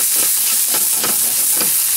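Pineapple caramelizing in a hot pan with a little fat, giving a loud, steady sizzle and hiss with occasional stirring scrapes.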